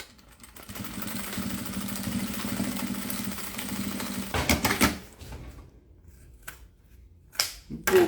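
Sewing machine stitching a bottle holder made from a milk carton, running in a steady continuous whir for several seconds, then stopping, followed by a few short bursts and handling clicks.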